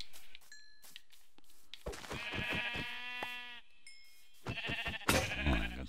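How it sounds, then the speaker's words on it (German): A flock of Minecraft sheep bleats in overlapping bursts, several drawn-out nasal cries clustering together loudly up close, with light thumps and game sounds in between. "Oh, eine ganze Schafarmee."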